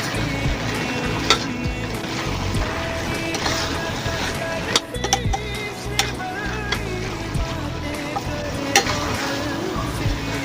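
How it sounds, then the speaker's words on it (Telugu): Mutton kheema being stirred in a pan after chili powder and coriander powder go in with softened tomatoes, giving a steady close sizzle with repeated scraping and clinking strokes throughout. "టమాటాలు కొద్దిగా మగ్గింది మగ్గినాక రెండు స్పూన్ల కారం ఒక స్పూను ధనియాల పొడి వేసి కలుపుతున్నా"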